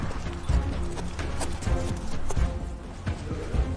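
Horse hooves clip-clop in an uneven trotting rhythm under a steady rumble, fairly close and loud, with a few louder impacts scattered throughout and no clear talk.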